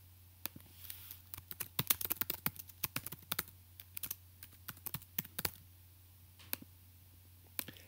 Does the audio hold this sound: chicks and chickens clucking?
no